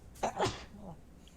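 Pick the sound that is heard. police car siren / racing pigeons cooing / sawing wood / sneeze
sneeze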